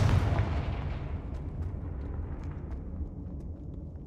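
Confringo fire spell explosion in the video game Hogwarts Legacy: a loud, deep blast that fills the opening moment, then rolls off into a long rumbling decay, with no one speaking.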